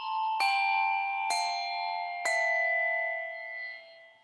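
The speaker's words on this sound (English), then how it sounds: "So all the bells are resonating beautifully." Three struck hand bells on a set-up bell tree ring out one after another about a second apart, each bright attack followed by long sustained, shimmering tones that overlap and slowly fade in a quiet studio.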